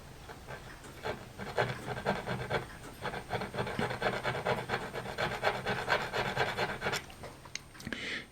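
Hand file rasping across wood on a model ship, faint rhythmic back-and-forth strokes in quick succession, close up and alone with no speech.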